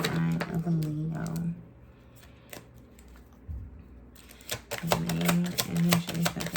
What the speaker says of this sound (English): So I'm going to shuffle the deck one more time.